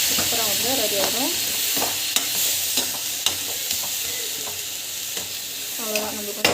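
Food stirred and fried in a pan while cooking, with a steady sizzle under repeated scraping and clinking of a utensil against the pan, close and continuous, no talking.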